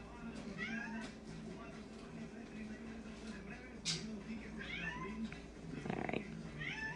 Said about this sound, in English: It literally sounds like my cat says hello to me.